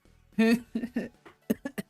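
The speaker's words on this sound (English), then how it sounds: "Sorry, I started coughing." A person coughs once hard, then gives a few short, choppy coughs and laugh-like bursts, close to the microphone in a quiet room.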